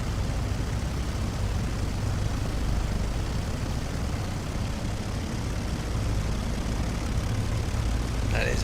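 Avro Lancaster piston propeller engines in Microsoft Flight Simulator, flying from RAF Coningsby toward Duxford, give a dense, continuous roar that holds steady and loud throughout, with no talk heard.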